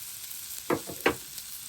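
Two quick bursts of sizzling rise from hot oil as onions and spices hit the pan for Jaffna-style tempering, over a quiet steady hiss.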